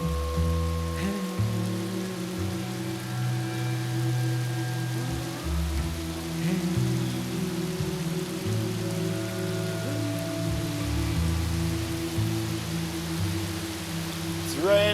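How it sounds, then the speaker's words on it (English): Steady rain falls in Jamaica as a continuous close hiss on surfaces, with low tonal hum layered underneath and no voices. "It's raining."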